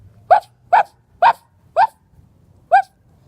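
A person imitating a dog barking with the voice, five short separate woofs, the first four evenly spaced and the last after a brief pause, close and clear with quiet gaps between.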